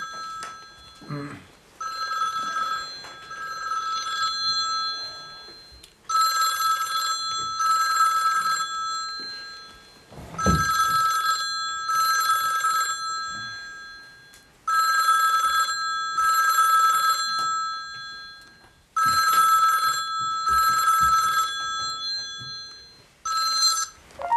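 A telephone in an office rings during a meeting with repeated pairs of shrill electronic rings, separated by short pauses and continuing for over twenty seconds, with faint background sounds between bursts.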